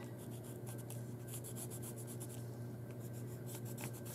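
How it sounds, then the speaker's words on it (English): A Stabilo watercolor pencil traces around collaged elements on an art journal page still partly wet with gel medium, giving close, soft, continuous scratchy strokes over a steady low background hum, with no talking. "So I'm going to just go around each one of my elements here."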